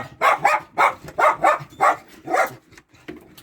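Dogs bark indoors, close by, in about five loud, sharp barks at a fairly even pace, followed by quieter shuffling.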